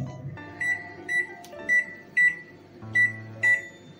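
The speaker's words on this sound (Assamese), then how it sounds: "এতিয়া মই অ'ভেনত দিম, 3 মিনিটমান বেক কৰিম।" A microwave oven being set to bake for three minutes gives a series of six short, bright keypad beeps at an even pace, close by, over a low background hum.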